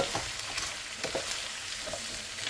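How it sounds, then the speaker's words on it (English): Eggs are stirred into a hot pan for breakfast tostadas, a close steady sizzle with a few soft scraping strokes. "Fill the eggs first, mix the yolk."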